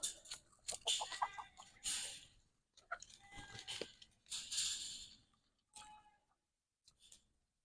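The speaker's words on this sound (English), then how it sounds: "Pretty confident that Sophie's not going to unalive any of the chickens." Chickens cluck and squawk in short, scattered bursts close by, with some scratching and pecking noises between calls, fading to quieter clucks toward the end.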